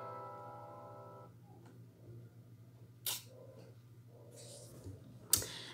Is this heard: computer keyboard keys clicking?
yes